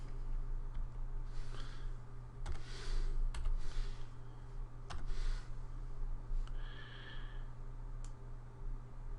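Arrow keys tapped on a computer keyboard while working in a guitar tablature editor, a sparse run of separate, crisp near clicks spaced about a second or two apart over a faint steady hum.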